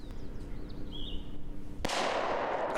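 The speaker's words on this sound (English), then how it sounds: "Did you hear that? That was a gunshot." A single sharp gunshot cracks out nearby after a stretch of quiet outdoor ambience with a faint bird call, its loud report decaying into a noisy rumble.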